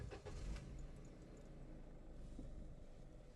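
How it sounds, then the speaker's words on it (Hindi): A car engine idles at low volume, heard from inside the cabin with both windows open, as a steady soft rumble with a slightly louder moment at the start. "दोनों विंडोज़ खोली हुई हैं और उसके बावजूद काफ़ी एक मिनिमल आवाज़ आती है इंजन की"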